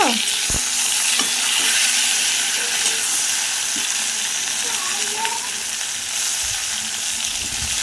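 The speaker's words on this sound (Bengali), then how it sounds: "টমেটোটাও একটু হালকা করে নেড়ে নেব।" Tomato, vegetable stems and potatoes fry in a pan as they are stirred, giving a loud, dense, continuous sizzle with occasional scrapes and knocks close by.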